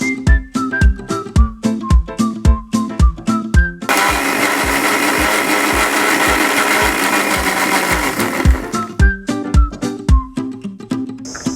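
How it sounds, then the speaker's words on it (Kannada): A mixer grinder blends tender coconut juice with two other ingredients, short loud whirring pulses followed by a long steady roaring run, then more short bursts as it is switched on and off. "ಈ ಮೂರನ್ನು ಹಾಕಿ ನಾನು ಜ್ಯೂಸ್ನ ರೀತಿ ಮಿಕ್ಸಿ ಮಾಡ್ಕೊಳ್ತಾ ಇದ್ದೀನಿ"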